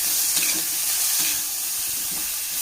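Onions and curry leaves sauté in a hot pan, a steady broadband sizzle with occasional soft stirring scrapes, close and continuous throughout.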